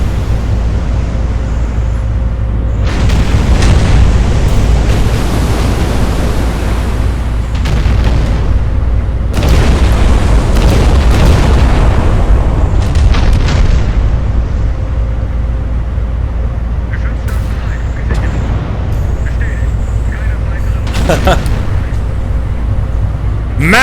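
Shell impact explosions in the naval warfare game Battleship Command, loud booming blasts and artillery-like bursts over a constant heavy rumble lasting about 24 seconds.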